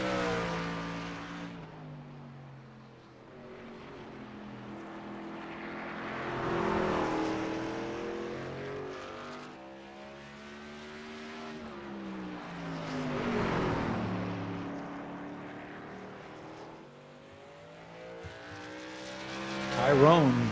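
Race trucks lapping the Martinsville short track during qualifying, engines swelling and fading in repeated passes as they go by, with a commentator talking over the roar.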